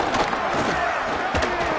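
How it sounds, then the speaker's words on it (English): Football stadium crowd roaring on a third-down play, loud and close, with surging shouts that swell near the start and again toward the end of the short burst. "Decibels rising as the crowd gets behind this defense on 3rd down."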